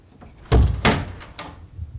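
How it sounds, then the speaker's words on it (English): A door opens with a couple of knock-like thuds, two solid low knocks close together followed by a softer rattle, close and alone with no talk. "Oh, it was just the door."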